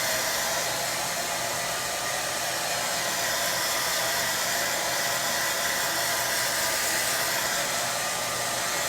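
A hair dryer blows steadily and loudly, a constant, even whoosh of air with a motor hum that continues unbroken from start to finish.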